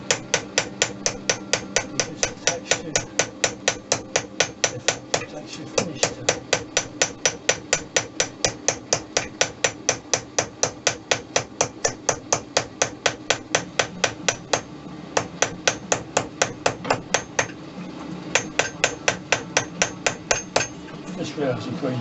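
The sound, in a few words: hammering silver metal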